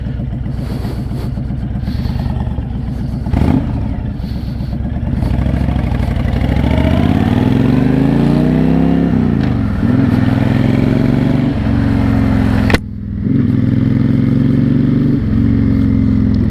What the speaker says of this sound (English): So this is a carbureted bike. It takes a little time for it to warm up, but gotta take a little spin.